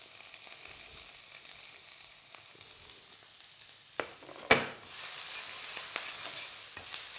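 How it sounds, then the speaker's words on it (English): Onions hitting a smoking-hot wok for a sweet and sour chicken stir-fry: a faint hiss builds, then a sharp clatter as they drop in, followed by a louder sustained sizzle with scattered stirring clicks, no voices. "Wok's starting to smoke. Onions in."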